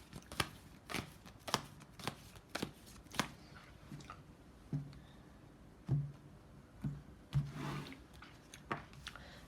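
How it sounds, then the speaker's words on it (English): Tarot cards being shuffled and cut, giving a run of crisp riffling bursts and soft slaps, irregular and close, with no talking. "One card, one more quick shuffle"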